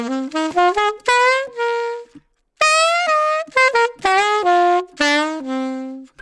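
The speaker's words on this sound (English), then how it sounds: "So a common mistake that I hear younger players do is that they really over-rely on the jaw to bend their notes." Jazz saxophone played in quick phrases of short notes whose pitch slides and bends from jaw movement, with brief gaps and one pause, close and bright.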